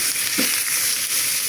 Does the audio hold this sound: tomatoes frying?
yes